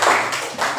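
A classroom of students claps hands together in a quick, loud burst that lasts under a second and fades briefly before a second swell.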